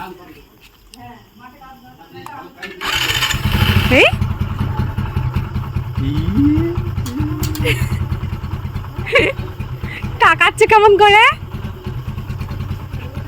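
A motorcycle engine idles steadily at a household while adults and someone talk and call out over the low rumble, with a brief rise in engine noise early on.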